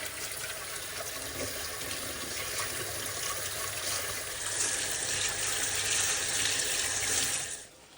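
Running tap water splashes steadily over rice grains being rinsed in a kitchen for Uzbek plov, a close, continuous wash that grows brighter as the flow strengthens, then stops abruptly near the end, with no voices.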